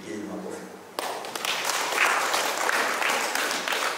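Audience applause breaking out at a religious leaders' gathering in Tanzania, a dense, sustained wash of clapping that starts abruptly after a quieter spoken moment and stays loud to the end.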